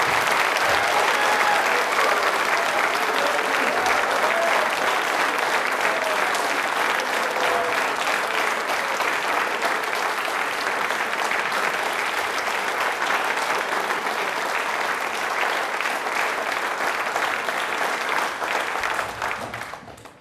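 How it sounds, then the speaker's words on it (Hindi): A hall audience claps long and hard for Dr Bhimrao Ambedkar during a televised Ambedkar Jayanti quiz programme; the thick, continuous applause stays full for about eighteen seconds, then thins and fades out at the end. "तालियां जोरदार।"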